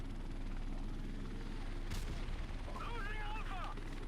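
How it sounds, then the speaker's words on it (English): A helicopter in the Modern Warfare video game drones with steady rotor chop under gunfire bursts and a sharp blast, while players talk over the game sounds. "I'm shooting at the helicopter"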